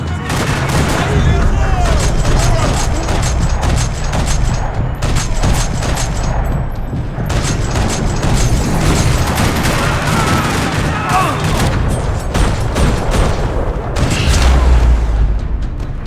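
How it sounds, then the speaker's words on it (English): Gunfire in a parking lot in the video game Max Payne 3, dense rattling bursts of automatic fire with booming shots throughout, loud and close, with voices shouting beneath the shooting. "Another parking lot rattling with gunfire."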